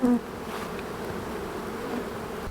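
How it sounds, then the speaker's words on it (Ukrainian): Bees at a hive buzz close to the microphone, flying at it, in a steady, droning hum, with a brief louder burst at the start. "бджоли почали нападати на мікрофон"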